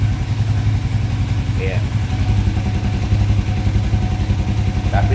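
A racing motorcycle engine fitted with a TPS, heard idling close up with a loud, steady, throbbing hum, while a person speaks briefly over it.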